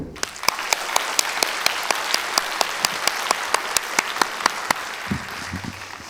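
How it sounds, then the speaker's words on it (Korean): A residents' meeting about an apartment complex reconstruction fills with crowd applause marked by a steady, rhythmic beat of claps, which fades out near the end. "그동안 우리 모두 함께 큰 박수로 자축을 해야겠습니다."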